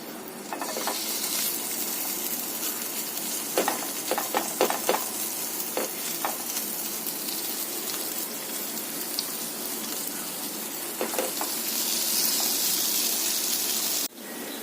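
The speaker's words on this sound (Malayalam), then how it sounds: "നെത്തോലി പാനിൽ നിരത്തിയിട്ടുണ്ട്. അത് ലോ ഫ്ലെയിമിൽ ഫ്രൈ ആയിക്കൊണ്ടിരിക്കുകയാണ്." Anchovies fry in coconut oil in a pan over a low flame, giving a steady close sizzle with scattered crackles and pops and brief stirring scrapes, ending in a sudden cut.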